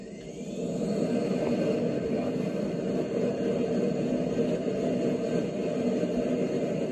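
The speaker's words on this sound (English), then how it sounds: "That's beautiful. That's a fighter jet." Steady, broad roaring rumble of an F-14 Tomcat fighter jet flying fast over south Jersey, a distant sustained jet-engine wash at even loudness throughout with no talk.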